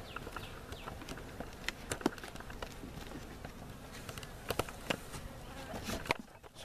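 A steady low buzz of many bees hums close by around a hive, with scattered taps and knocks breaking through the drone.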